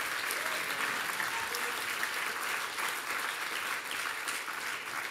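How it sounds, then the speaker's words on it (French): A crowd at a French political rally applauds steadily, a thick continuous wash of clapping heard from within the hall, loud and unbroken for the whole stretch. "Je vous demande de les applaudir"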